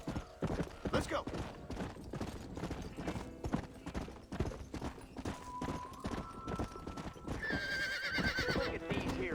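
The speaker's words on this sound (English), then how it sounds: "Look at these here horses." Horses in the Red Dead Redemption video game, with steady clip-clop of hooves and whinnying neighs rising toward the end over a background of game sound, and a voice speaking nearby.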